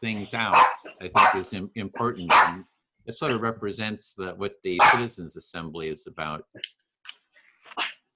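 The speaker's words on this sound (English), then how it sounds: "sorry about the dog barking" A dog barks intermittently in the background beneath steady conversation, with the barks brief and partly masked by the voices.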